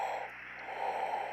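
Slow, hissing breaths in a simulated Apollo 17 spacewalk on the Moon, a continuous faint, rasping airflow, like breathing inside a space suit, with no speech.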